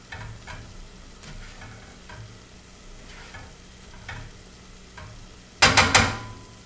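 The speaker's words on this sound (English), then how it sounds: "Our mushrooms have mostly cooked down." Mushrooms cooking down in a pan for risotto make a soft, continuous sizzle with occasional stirring strokes, followed near the end by a quick burst of loud clattering against the pan.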